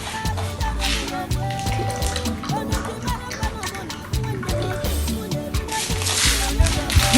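Oil is poured while preparing African salad (abacha), giving a wet, gurgling liquid stream with irregular splashes and clinks, loud and close, and a voice talks in short bursts over it.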